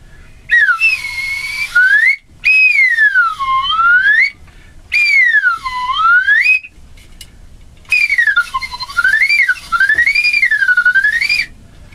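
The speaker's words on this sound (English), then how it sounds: "It's a slide whistle." A slide whistle glides up and down in wavering swoops, played in four loud, close phrases separated by short pauses.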